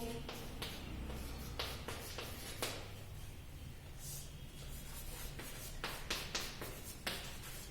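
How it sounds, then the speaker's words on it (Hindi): Chalk or marker writing on a board during a geography lecture, a string of close scratchy strokes and taps separated by short pauses. "अब यहाँ लिखता हूं"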